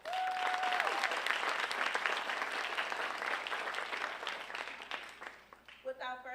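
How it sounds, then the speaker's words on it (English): Audience at a first-year university convocation claps in a long sustained round of applause, opening under a brief tone and thinning near the end as a voice begins speaking. "please give yourself a round of applause"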